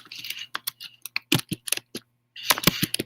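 A computer keyboard is typed on with quick, close, irregular key clicks in bursts, broken by a short pause before another rapid flurry, with faint hum underneath.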